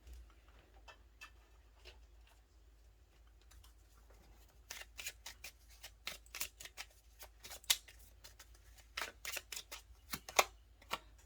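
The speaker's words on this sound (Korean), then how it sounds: "추가 카드를 잠시 뽑아보도록 하겠습니다" Tarot cards being shuffled and drawn, a run of quiet scattered clicks and flicks at first, then brisker, louder snapping and riffling bursts close by, with no talking.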